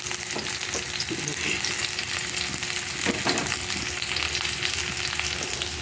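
Onions and tomatoes sizzle steadily in a hot pan for adobong posit, a continuous close frying hiss with occasional stirring scrapes and no talking.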